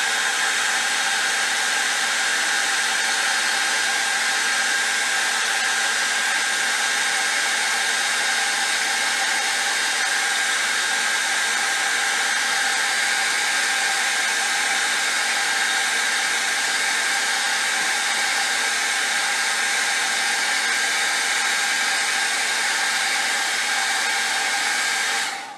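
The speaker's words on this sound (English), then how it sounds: "Hair dryer and dry the foot." A hair dryer blows in a steady, loud, unbroken whoosh as it dries paint on a carved wooden duck's foot, the motor tone holding constant throughout with no voices.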